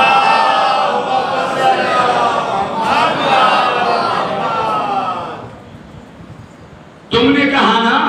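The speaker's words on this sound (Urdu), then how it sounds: "آواز بلند بار دیگر نعرے صلوات پڑھیں" Mourners at a religious majlis gathering chant salawat loudly in unison, a massed, resonant wall of voices that fades off briefly and then surges back abruptly near the end.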